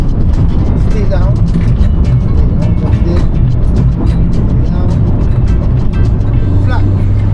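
A car's engine drones loud and steady, close to the mic, as it drives through the banked concrete Carousel corner of the Nürburgring, with a person talking over it throughout.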